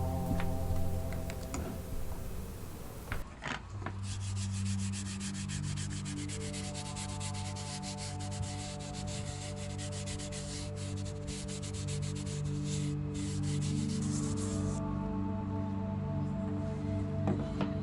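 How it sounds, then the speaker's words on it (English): Dark walnut wood stain is rubbed onto a small wood block with a cloth, making a close, continuous scratchy rubbing with fast repetitive strokes after a brief clatter at the start. "Here is a dark walnut. I really like this stain myself. Let's apply it to our block of wood."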